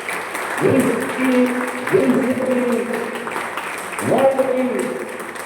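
An audience claps at a patriotic Independence Day program in Mundka, India, the applause swelling and fading under someone speaking loudly over a microphone.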